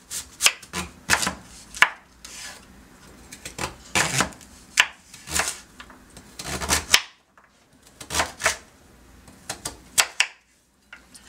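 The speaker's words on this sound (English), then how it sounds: "we're going to cut the ends off, set them aside, and then we're going to go ahead and cut these up into 1/2 inch cubes" A knife chopping peeled potatoes into half-inch cubes on a cutting board, with crisp, close knocks in quick irregular clusters separated by short pauses.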